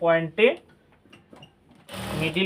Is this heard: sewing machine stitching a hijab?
yes